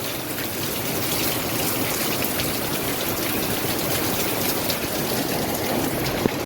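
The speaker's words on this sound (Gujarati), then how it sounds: "એવો જ વરસાદ ચાલુ છે અત્યારે અમારે।" Heavy rain falls in Surat, a dense, steady roar of downpour that stays loud and unbroken from start to finish, with no voices.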